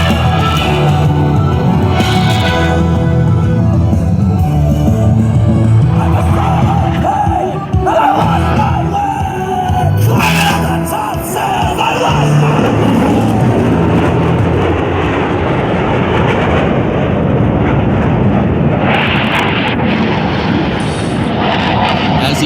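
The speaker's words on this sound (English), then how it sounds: "they will roll their aircraft 360 degrees, pausing after each 90 degrees of rotation" Air show jets performing four-point hesitation rolls overhead, a loud continuous engine roar that swells and fades with passes, with crowd shouts and a public-address voice mixed in.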